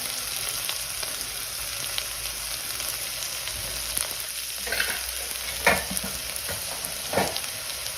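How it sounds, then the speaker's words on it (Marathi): Onion greens frying in a pan make a continuous close sizzle, broken by several short scraping strokes of a spoon toward the end, with no voices. "कांद्याची पात एकच मिनिट भाजून घ्यायचं"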